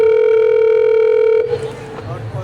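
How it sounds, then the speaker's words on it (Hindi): Telephone call ringing tone in a Hindi household scene, a steady sustained electronic tone lasting over a second before cutting off into room noise and brief rustling. "अरे रहने दीजिए ईशा जी, नहीं उठाएगा आपका बेटा फोन"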